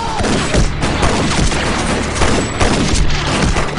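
Heavy, loud gunfire in a chaotic standoff, dense overlapping bangs and booms in a near-continuous barrage with a few stronger shots standing out.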